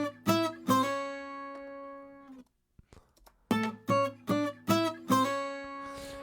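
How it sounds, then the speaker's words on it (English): An acoustic guitar from a mixed track plays a short riff: two bright ringing plucked notes that sustain, a pause, then a run of five rhythmic picked notes, alone and fairly close. "There's also an acoustic guitar in here that sounds like this."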